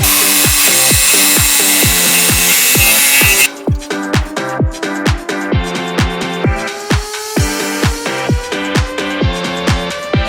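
A loud angle grinder with a PVC and plastic cutting blade whines continuously, then drops into a rhythmic series of repeated bursts cutting PVC with short pauses, close by and without speech.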